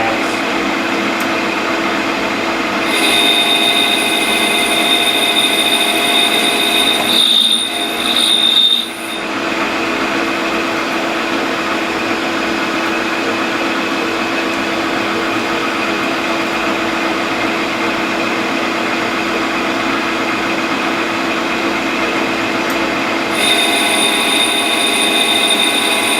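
A Bridgeport milling machine takes a cutting pass with a steady loud mechanical hum and a high, squealing cutter tone that cuts in and out. No voices are heard.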